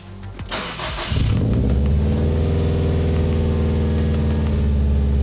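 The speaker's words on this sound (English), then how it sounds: "First start with wideband, new downpipe, see if it works." A 2019 Subaru STI fitted with a new downpipe cranks briefly and then fires, settling into a loud, steady, rumbling idle that carries on alone without any talking.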